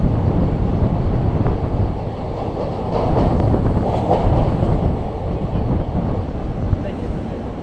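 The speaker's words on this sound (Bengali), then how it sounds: "বিকেল 4:12 অবশেষে ট্রেন ছাড়ল অন্ডারগ্রাম স্টেশন।" A train pulls out of Ondagram station in Bankura, a dense, steady rumble of rolling wheels and carriage noise close by, with wind buffeting and a faint clickety-clack running throughout.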